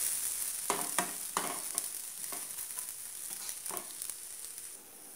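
Bread fries in a pan with a continuous hiss and a few short crackling bursts, close up and fairly quiet, fading slightly at the end.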